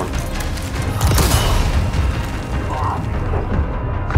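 Grenade blasts in the Resident Evil 4 Remake video game, a dense booming rumble with a heavier burst partway through, loud and continuous over the game's background noise.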